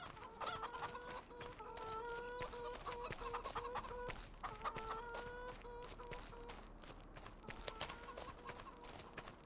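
Chickens cluck in a farm survival video game, repeated stacked tones over a steady busy background with scattered footstep-like clicks, fairly close and continuous throughout.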